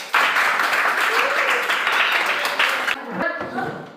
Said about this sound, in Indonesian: maka tepuk tangan buat kelompok 5